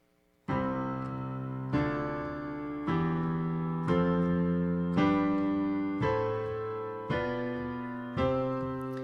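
Seven sustained chords played one after another at an even pace, each struck cleanly and ringing, stepping upward like a scale; instrumental, no voices.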